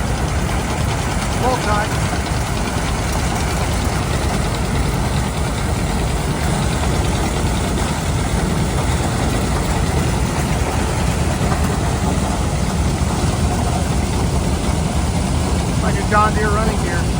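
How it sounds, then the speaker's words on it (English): John Deere 520 tractor running at an antique farm show, its engine a steady, loud low chugging drone throughout, with a voice speaking briefly over it. "John Deere 520, John Deere one road picker."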